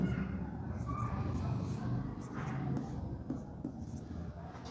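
A pen scratches across a paper balance sheet in soft, close strokes while a person speaks over the writing.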